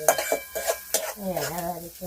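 Onion sizzles gently while being stirred in a pan, with scraping strokes at an uneven rhythm, and a voice sounds briefly over the cooking.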